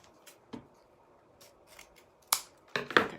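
Scissors snip through ribbon being cut for a Christmas bow. A soft, faint rustle comes first, then a few crisp, close cuts near the end, with no talking.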